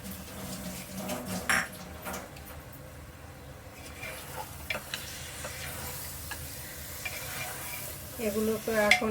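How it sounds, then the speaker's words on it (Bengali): Two kilograms of skinned layer chicken stirred and fried with spices in a pan, quiet sizzling under scattered clinks and scrapes of a utensil against the pan, with a faint voice in the background. "এগুলোকে এখন আমি মশলার সাথে নেড়ে ভালোভাবে কষিয়ে নেব।"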